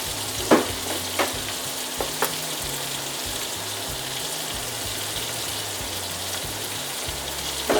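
Flour being whisked into hot bacon grease for homemade gravy, with a steady close sizzle and a few sharp clinks of a whisk against the pan near the start.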